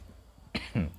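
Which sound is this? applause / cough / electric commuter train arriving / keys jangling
cough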